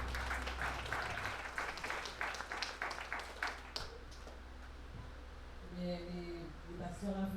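A church seminar audience in Martinique applauding and cheering for Jesus, steady dense clapping with crowd noise that fades after a few seconds, with speech over the end.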